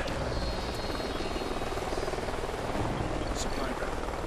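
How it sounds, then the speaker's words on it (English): Helicopter in the Call of Duty Ghosts jungle canyon level, a steady broadband rotor drone holding at constant loudness throughout, with game atmosphere around it. "Sounds like a chopper's up ahead of us."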